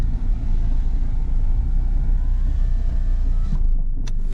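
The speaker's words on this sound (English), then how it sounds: "this is the quietest this car I think has ever sounded" An older car's engine runs smoothly at a low, steady idle-like rumble during a test drive after sitting unused, with a fairly quiet, even drone and a couple of brief clicks near the end; no one speaks.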